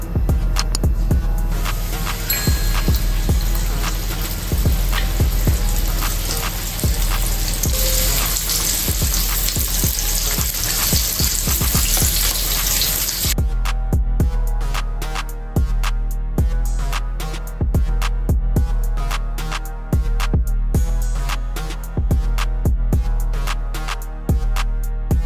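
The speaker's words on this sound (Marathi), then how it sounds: "आता मी एक एक पापलेट फ्राय करून घेते" Pomfret fish frying in hot oil on a tava, a dense continuous sizzle with crackling pops that later thins into sparser, sharper spits, close and fairly loud.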